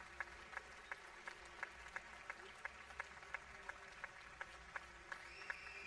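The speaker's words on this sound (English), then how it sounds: "This whole crowd is applauding Pedro Rangel as he is visibly emotional." A volleyball crowd at a men's NORCECA Championship match between Mexico and Puerto Rico applauds steadily with evenly spaced claps that sound distant and soft, continuing throughout, with faint crowd murmur beneath.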